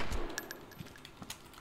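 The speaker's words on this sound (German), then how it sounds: "Oh Manu, ich wollte den letzten Schuss machen." Gunfire in the survival game DayZ: a few sharp, clanging shot reports spaced through the moment, fairly quiet against a low ambient background with no talk.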